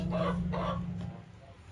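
A chicken clucks twice in quick succession, close by, then goes quiet.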